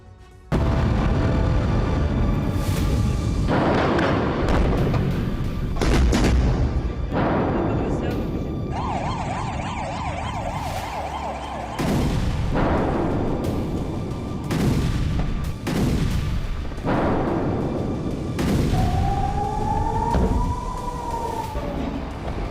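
Deep, repeated booms of artillery fire near the Israeli border roll through the clip, loud and close, with a siren wailing between them and a voice speaking over the blasts.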